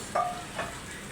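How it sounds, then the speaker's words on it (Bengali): Meat with spices and greens frying in a pan, two quick stirring scrapes over a faint sizzle, brief and fairly quiet, with no talking. "এবার কষানোটা শেষ দিয়ে দিচ্ছি বেঁচে রাখা মাংসগুলো"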